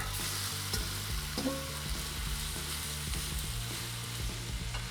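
Shrimp sauté in a hot pan with a whole bulb of garlic, giving a steady, loud, dense sizzle and crackle throughout, with occasional scrapes of stirring and no talking.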